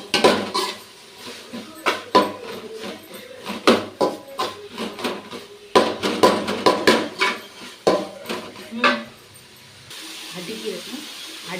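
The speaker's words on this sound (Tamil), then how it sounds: "அதனால நல்லா வதக்கணும்" Stirring in a cooking pan gives a run of loud, uneven clanks and scrapes of a utensil against metal, with someone talking between strokes and a softer hiss of sautéing underneath toward the end.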